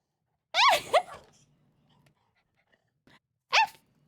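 Multiple dogs woofing nearby, a loud double bark followed by quiet pause and faint small noises, then another sharp single bark.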